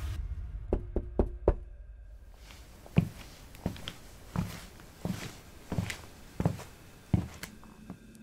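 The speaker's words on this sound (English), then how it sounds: "someone knocked on the motel room door." Knuckles rap on a motel room door, first a quick run of four sharp knocks, then after a pause a slower series of heavier spaced knocks continuing to the end, fairly close and with no voices.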